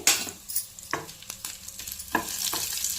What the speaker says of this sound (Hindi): और तड़के को खूब अच्छे से फ्राई कर लेते हैं।